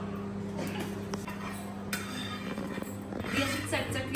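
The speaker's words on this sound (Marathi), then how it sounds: "तीळ भाजून घेऊया" Sesame seeds are dry-roasted in a pan while cooking at home, with soft scraping and light clinks of a spoon stirring against the metal. The sounds are quiet and close, with faint talk in the background.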